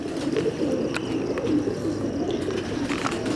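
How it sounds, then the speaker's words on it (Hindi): Teddy pigeons of the Tohfa breed cooing, a close, continuous chorus of low throaty coos with a few faint chirps, with no voices heard. "मिस्त्री दीन साहब के टेडी कबूतर यहाँ पे तोहफे के नाम से मशहूर हैं"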